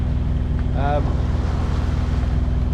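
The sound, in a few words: sailboat motoring under engine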